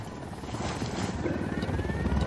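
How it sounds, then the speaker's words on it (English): Military helicopter approaching in the video game Ghost Recon Wildlands: a steady, dense rotor and engine roar that swells slightly louder as it nears, with no talk over it. "Helicopter incoming."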